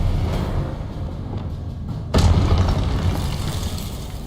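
Confringo explosion spell in Hogwarts Legacy, a sudden loud blast midway that bursts over a rumbling game ambience and decays into a lingering low roar.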